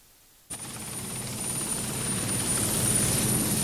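Helicopter flying over Sumatra, its rotor and engine roar starting abruptly and holding as a steady, loud, close drone with a high whine on top, no voices.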